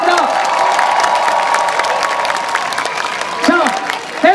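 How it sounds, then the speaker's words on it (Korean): Festival crowd at a b-boy battle applauding and cheering for a breakdance crew, dense sustained clapping with whoops and shouts throughout, a voice briefly calling out near the end. "갬블러 크루에게 큰 박수 보내주시기 바랍니다"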